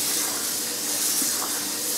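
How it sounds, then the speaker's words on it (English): Tap water runs in a steady, loud hissing stream over raw chicken pieces being rinsed in a sink while making tamales, heard close and continuous. "just rinsing it a couple times to push out any lingering fat"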